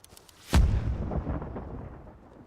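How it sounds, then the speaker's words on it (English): TNT explosion in the video game Creativerse, a short crackle of ticks followed by one heavy booming blast with a rumbling tail fading over two seconds, loud and alone. "you get a loud spark and a bang"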